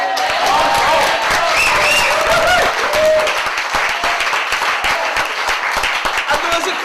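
Wedding guests at a 2007 reception applaud in a dense, loud round of clapping that thins toward the end, with voices and cheering mixed into the crowd noise.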